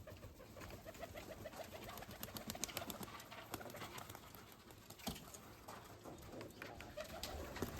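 Domestic pigeons kept by a fancier in Mykolaiv coo softly in a low, throaty murmur, with several birds overlapping at a distance against a busy, faint background.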